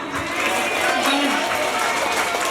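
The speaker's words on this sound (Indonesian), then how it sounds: "Tepuk tangan untuk ibu" A crowd at a formal gathering gives a brief burst of applause for the mothers, a short, even wash of many hands clapping with a few voices mixed in.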